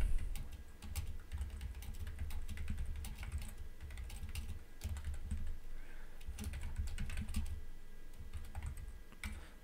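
Steady clatter of keys on a computer keyboard, close and continuous for about ten seconds, with brief pauses between bursts of typing and nobody speaking.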